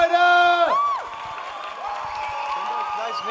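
Cheering and applause from a convention audience greeting a cosplay award winner, starting after a loud whoop and continuing as a steady crowd roar with scattered shouts.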